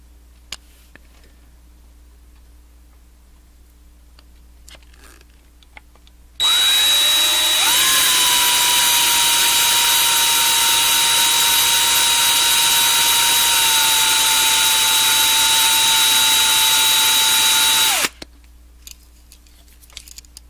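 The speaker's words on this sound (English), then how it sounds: "you have this drill noise right next to the camera. It's kind of loud and annoying." A power drill spins up close by while boring into a 1/64 scale custom model car body, a loud, steady high-pitched whine lasting about eleven seconds that stops abruptly, with quiet room sound before and after.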